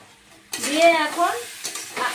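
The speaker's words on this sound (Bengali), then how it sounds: "আবার ভেজে নিচ্ছি।" Giant taro curry with ground coriander and spices frying in a pan, a sudden loud sizzle breaking out close by with scraping stirs, no talking.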